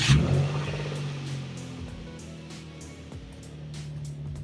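Nissan 350Z engine idling just after a camshaft position sensor was installed, a low steady hum with a brief louder burst at the start, then settling into an even, moderately loud running note.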